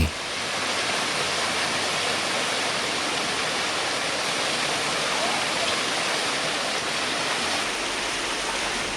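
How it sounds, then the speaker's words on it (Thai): Steady, dense rush of a flowing stream in a valley campground in Nakhon Nayok, Thailand, like a small cascade, continuous and close with no pauses or voices. "ปล่อยใจไปกับเสียงน้ำไหล"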